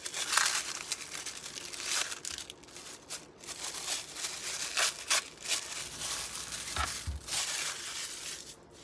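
Mint-colored tissue paper wrapping around a jewelry subscription package being opened, close crinkling and crushing rustles in uneven bursts and sweeps, steady and fairly loud with no talking.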